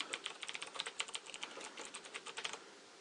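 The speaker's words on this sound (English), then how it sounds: "I'm going to type in my email address." Rapid typing on a computer keyboard as an email address is entered, a close, crisp burst of quick key clicks for about two and a half seconds, then stopping.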